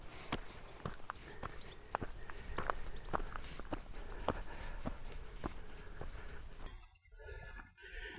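Footsteps of a hiker climbing a rough fell track in the countryside, steady crunching steps close by over a windy outdoor background, stopping near the end as the wind drops.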